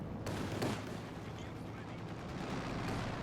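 Brumbar assault gun firing in Company of Heroes 2, a dense rumble of battle fire with sharp gunshot bursts near the start and around the middle, heavy continuous combat noise throughout.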